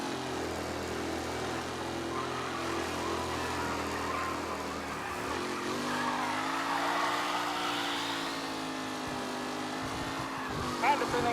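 Race cars roaring through a contest in Mafia: Definitive Edition, a steady loud engine drone with rising and falling pitch as the pack passes, plus a brief sharp squeal near the end; a voice speaks over part of it.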